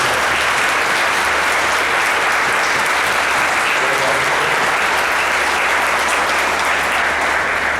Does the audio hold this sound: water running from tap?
no